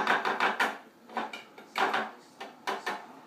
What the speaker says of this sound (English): I took the cilantro that we had cut earlier and I put it into the tomato. Now I'm just going to mix it up.